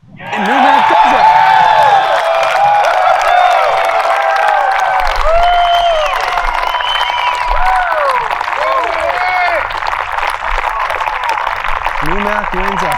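Home crowd at Framingham bursting into loud cheers, whoops and sustained applause after a golf championship win at the Massachusetts Amateur final match. Excited voices call out through the noise, which stays near and full throughout.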